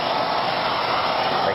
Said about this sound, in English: This is a Meal S5 vacuum with a sealed HEPA filter unit.